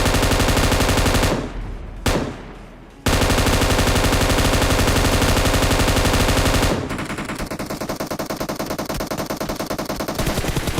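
Dense, continuous automatic fire from an M249 machine gun in a video game, loud and close, broken by brief reload gaps before the rapid bursts resume at a slightly lower level.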